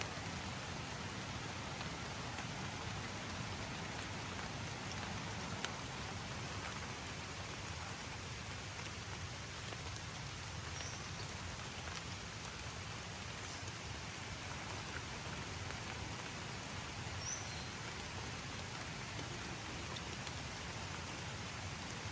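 Heavy rain pours down in a constant, even roar, unbroken and uniform for the whole stretch with no voices.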